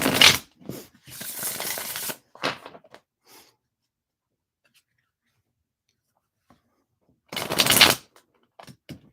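A deck of tarot cards is shuffled nearby in short papery bursts of rustling and flicking, followed by several seconds of quiet before another brief flurry of shuffling and a few soft taps.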